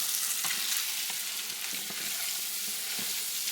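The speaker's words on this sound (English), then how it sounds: "some vanilla, and some baking soda. Get all of that stirred up in there really well." Hot peanut brittle candy gets stirred right after vanilla and baking soda go in, with a steady close sizzle and bubbling broken by scraping spoon strokes and no voices.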